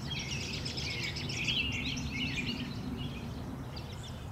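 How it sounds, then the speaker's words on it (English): Several birds chirp and twitter continuously in the background, high and fairly distant, over a steady low outdoor rumble. "Crazy hearing all the birds chirping now."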